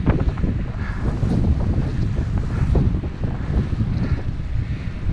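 Strong wind buffets the microphone while cycling on a windy day in Lincolnshire, a continuous loud low roar and rumble throughout, with no talking.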